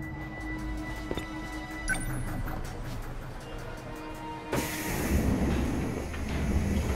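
A train at a station in the video game 13 Sentinels: Aegis Rim gives a low, steady hum that swells abruptly into a louder, hissing rumble of rolling carriages partway through.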